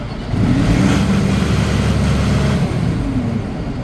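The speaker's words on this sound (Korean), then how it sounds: "자, 시동을 한번 딱 걸어줍니다." A concrete pump truck's diesel engine (SP-500 boom pump) cranks and catches, then runs at a steady, loud idle with a low rumble throughout, up close with no talking.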